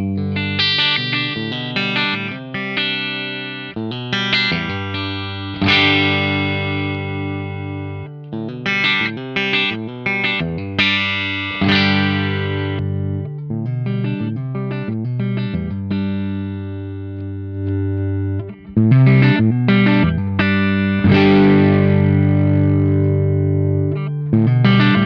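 Gibson Custom Authentic Jimmy Page Number 1 Les Paul electric guitar played through distortion, mixing chords and riffs with ringing sustained notes, loud and close, alone without any talking.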